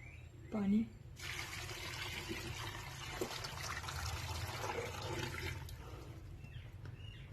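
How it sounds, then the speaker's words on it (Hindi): Water pours from a container into a pressure cooker holding beef trotters and onions, a steady splashing gush close by for several seconds, preceded by a brief thud. "पानी कम है, थोड़ा और मैं डालूंगी इसमें।"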